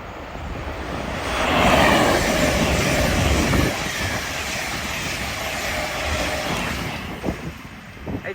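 An LNER Azuma train running from London King's Cross to Edinburgh passes through Peterborough station on the East Coast Main Line: a broad, steady roar swells early, holds and then eases off, with no voices.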